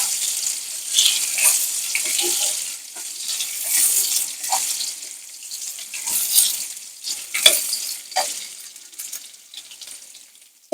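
Onions sizzle and crackle in hot oil in a wok, with a continuous bright hiss and intermittent scraping from stirring. The frying is close and moderately loud, and no one speaks.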